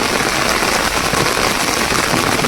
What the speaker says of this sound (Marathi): मित्रांनो बघा पाऊस पडला हो